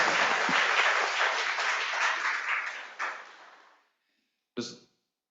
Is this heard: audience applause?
yes